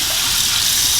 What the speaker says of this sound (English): So I'm putting some hot water on my offset.